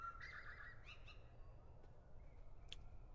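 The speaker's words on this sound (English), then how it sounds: "I hear birds chirping" Ambient birdsong in the video game Deltarune, a few faint high chirps and trills over a soft steady background, with no music.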